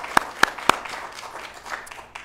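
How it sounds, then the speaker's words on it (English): A few sharp, separate hand claps ring out at the NASDAQ closing ceremony, three crisp hits in quick succession that then fade into a quiet room murmur rather than building into sustained applause. "I like to start each ceremony with a big round of applause"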